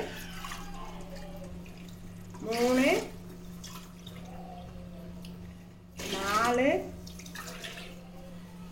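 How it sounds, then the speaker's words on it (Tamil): Coconut milk is poured from a tumbler into a pot for Chettinad mutton biryani made with seeraga samba rice, two short splashing pours a few seconds apart, close and fairly soft, with a person counting aloud between them. "இப்போ வந்து ஒரு 1க்கு 2 பால் தேங்காய் பால் அளந்துக்கிறேன்"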